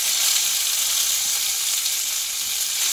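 Whole spices with a cinnamon stick fry in hot oil, tempering for a vegetarian dish, giving a steady, close, bright sizzle that hisses evenly throughout with no voices.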